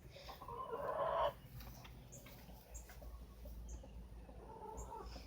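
Chickens cluck faintly in a quiet coop, with one short, louder burst of clucking followed by soft, scattered calls.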